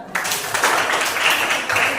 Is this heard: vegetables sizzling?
no